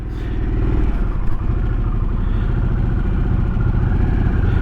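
A 2023 Harley-Davidson Sportster S setting off: a loud, close, low-pitched engine throb that rises from idle as the motorcycle pulls away and then holds a steady pulsing drone, with a brief clatter near the start.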